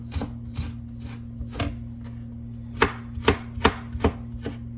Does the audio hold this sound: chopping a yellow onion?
yes